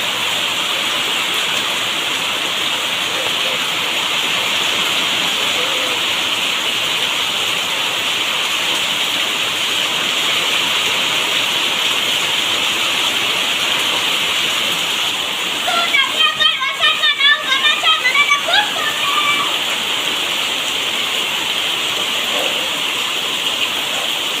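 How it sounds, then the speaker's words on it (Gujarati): Steady, heavy rain hisses continuously throughout, with a brief burst of speech partway through. "આજે પણ બારિશ આવી રહી છે"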